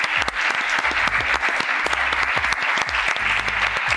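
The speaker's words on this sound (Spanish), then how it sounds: "aplausos" A crowd at a boxing weigh-in for La Velada del Año 3 keeps up loud, continuous applause, with dense clapping that runs close and unbroken while low thumps sound underneath.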